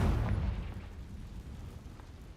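A Confringo blast spell in Hogwarts Legacy erupts as a heavy, booming explosion with a low rumble that slowly fades over a couple of seconds, loud and close, with no talk.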